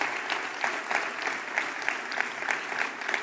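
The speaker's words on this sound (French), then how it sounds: "Merci à toutes et tous ce soir, une fois encore, de les applaudir." Sustained applause from a large audience at an Emmanuel Macron campaign rally speech, a dense steady clatter of clapping with rhythmic surges throughout, with no speech over it.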